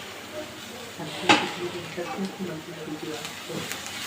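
Chopped carrots, capsicum and spring onion sauté in a little oil in a pan, a soft continuous sizzle with occasional stirring clatters and a sharp scrape, under intermittent talk.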